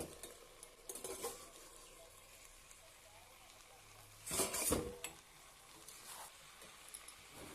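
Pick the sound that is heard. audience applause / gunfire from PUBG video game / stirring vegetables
stirring vegetables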